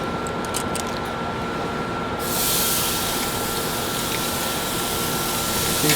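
Sirloin steaks about an inch thick sizzle on a grill, a loud, dense, steady hiss that swells a little louder after the first couple of seconds.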